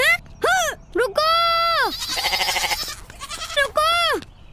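A goat bleating loudly and close, several quavering, wavering cries in succession with short pauses between them and no talk over it.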